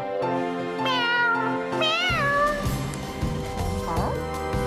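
A cat meows repeatedly in a children's cartoon, several rising and falling cries over a short span, with a voice imitating the meows.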